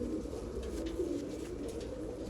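Low, soft cooing of a female pigeon of the Kake Kile Wale breed repeats close by over a steady background hum.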